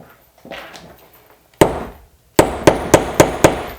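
A hammer strikes a snap-setting tool to fix a spring snap fastener onto a lumberjack-style shirt: one sharp blow, then a brief pause and a rapid run of five loud, evenly spaced hits, close up.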